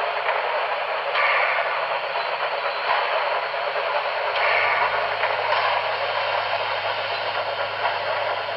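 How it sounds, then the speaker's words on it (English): An HO scale Reading T1 4-8-4 model steam locomotive running smoothly, giving a steady, close, hissing whir with a faint low mechanical hum that stays even throughout, with no voices. "Overall, the locomotive is a smooth runner and puts out some pretty good smoke."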